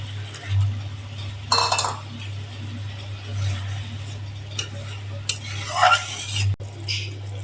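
A spoon stirs fried eggs into a simmering curry in a few scraping, clinking bursts over a steady low hum.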